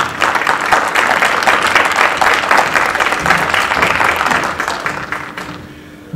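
The audience at a school general assembly gives a round of applause, dense and fairly loud clapping that holds steady for several seconds before tapering off into quiet at the end.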